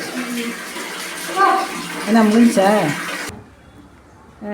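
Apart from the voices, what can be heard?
water running from a tap during a bath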